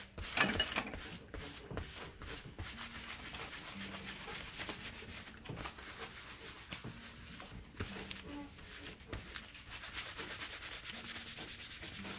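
Antique gel is rubbed steadily into tooled leather, a soft continuous rubbing and swishing close by and quiet, with no talk.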